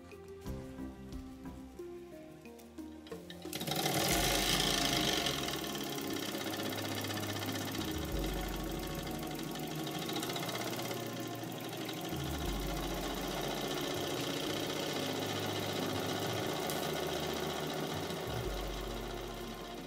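A small piston engine with a flywheel runs steadily and continuously after a quieter start, with a rhythmic mechanical chugging and clatter throughout.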